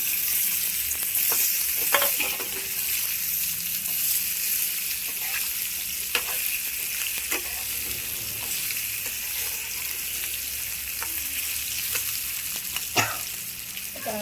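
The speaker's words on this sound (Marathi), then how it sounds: "तर लसूण छान फ्राय झाला की आता आपण हे बटाटे टाकूया" Potatoes tipped into a pan of fried garlic fry with a steady, dense sizzle throughout, broken by occasional stirring clatters and scrapes.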